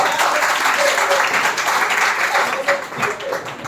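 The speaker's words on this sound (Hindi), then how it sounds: "खड़ा पे तालियां बजाओ।" An audience at an International Women's Day ceremony at a national broadcasting headquarters gives sustained applause, dense clapping mixed with murmured voices throughout.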